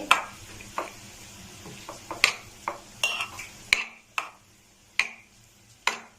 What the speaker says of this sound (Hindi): अच्छे से मिक्स करेंगे इसे और फिलिंग तैयार कर लेंगे।